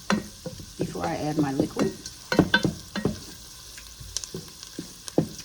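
Onions, peppers and garlic sizzle and crackle in a pan while being stirred, with scraping and clicks of a utensil, and a person speaks briefly over the cooking.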